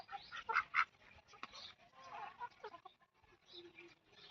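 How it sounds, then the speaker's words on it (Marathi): A white duck gives several close quacks in short bursts, mixed with people talking nearby. "कसला पांढरा शुभ्र आहे ना हा बदक."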